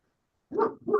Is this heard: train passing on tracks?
no